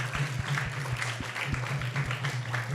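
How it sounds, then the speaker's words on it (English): Modest applause from a small group, scattered claps over a low steady hum, moderately loud and fairly even throughout. "let's give a big round of applause to everyone who has joined us here"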